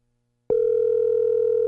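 After half a second of silence, a telephone dial tone starts abruptly and holds as a steady, loud, continuous hum until the end, with no voices.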